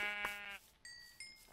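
Sheep in Minecraft bleat in a few short, close, loud calls, each a brief wavering baa separated by short pauses, with no talking over them.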